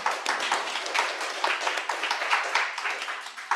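Audience clapping for a first-place winner at a student research competition, a steady dense patter of many hands at moderate distance, fairly soft, with no voices over it.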